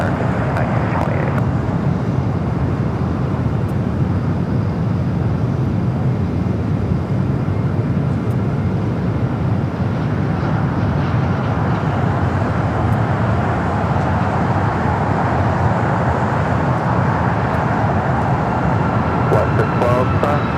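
An American Airlines jet landing on runway 25 left at LAX gives a loud continuous rumbling roar throughout, steady and broad, with radio voices faintly underneath.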